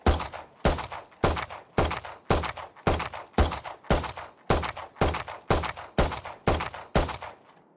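Thirteen evenly spaced gunshots ring out from a weapon in the video game Valorant, fired one at a time in a steady rhythm, each a sharp crack with a short decaying tail, with no talk.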